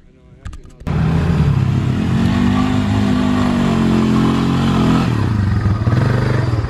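An old Honda motorcycle on a hill climb bursts into a loud, close engine roar after a brief clatter, revving hard and holding high for several seconds before easing off, with people talking over it.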